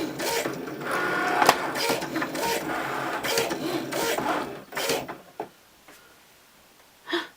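A Cricut Maker cutting machine with a rotary blade, whirring and buzzing steadily for several seconds, then stopping with a few short mechanical bursts at the end.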